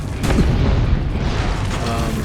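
Cannon fire and explosions in Assassin's Creed Brotherhood, a loud close blast followed by a dense, rumbling roar of booms that lingers throughout.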